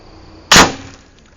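A Hatsan budget PCP air rifle fires a pellet: one sharp, loud crack with a short fading tail, heard alone against quiet background.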